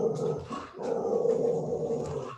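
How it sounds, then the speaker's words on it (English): A dog growls close by in two low, rumbling bursts: a short one, a brief pause, then a longer sustained growl. "Okay, that's the dog."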